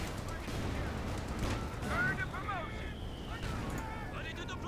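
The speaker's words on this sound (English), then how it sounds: "Rifles are suppressed and mortars are barraging." Mortar barrage and rifle fire in the World War II strategy game Company of Heroes 2, a dense rumbling wash of distant blasts and shots with faint whistling shell sounds, continuous throughout.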